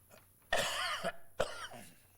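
Two sharp coughs, close and loud, spaced about a second apart, with quiet between them.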